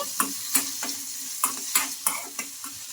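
Green chillies and ginger fry in a pan while a spoon stirs them in steady, repeated scraping strokes, about a stroke every third of a second, over a soft background sizzle.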